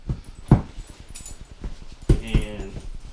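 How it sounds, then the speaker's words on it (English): A puppy wearing a big cone on her head gives short whimpers and yips at close range, with a voice talking faintly in the background. "You guys get to see my puppy."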